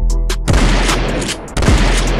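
Loud rapid gunfire from a PSA M4 Classic Carbine PA-15 rifle, a sustained string of close, booming shots with a brief break partway through, no talking.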